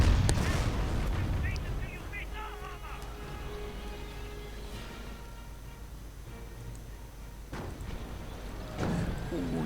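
Artillery and Panzer strikes explode in a World War II strategy game, with dull booms and scattered battle noise under a continuous commentator's voice.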